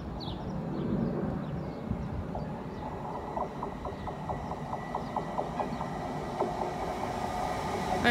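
A five-car passenger train rumbles past a level crossing at Dock Hills, a steady rolling clatter with rhythmic wheel beats on the rail joints, moderately close and without talk.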